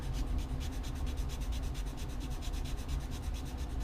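Quick rhythmic rubbing strokes, a steady back-and-forth rasp of sanding the tip of a cane reed being made, close and fairly quiet.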